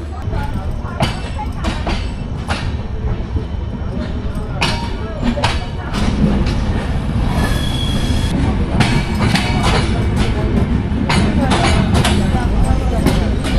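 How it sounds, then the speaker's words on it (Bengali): Ekota Express night train rolling onward after pulling out of Panchbibi, a steady loud rumble of carriages with repeated wheel clatter and occasional squeal, continuous throughout with faint voices inside the coach. "পাঁচ বিবি থেকে আমাদের ট্রেন ছেড়ে গেল।"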